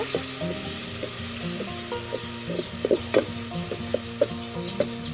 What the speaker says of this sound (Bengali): আবার এটা একটু হালকা করে ভাজা ভাজা করে নিব